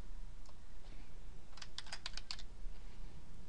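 A quick flurry of computer keyboard typing, a dozen or so light key clicks in under a second, faint against a steady background hiss in a quiet room.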